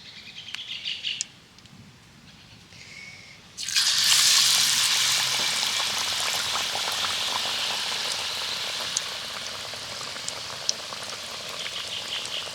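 Batter-coated egg pieces drop into hot oil in a wok, and a loud, dense sizzle bursts up and keeps crackling steadily with scattered pops. Before that, the room is quiet apart from faint chirping birds.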